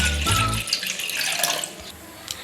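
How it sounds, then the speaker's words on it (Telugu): Water poured from a glass into a cooking pot while making ragi malt, a short gurgling splash that tapers into light trickling and drips, close and fairly quiet. "2 గ్లాసులు వాటర్ పోసుకోవాలి."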